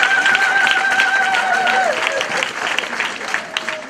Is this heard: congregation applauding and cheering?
yes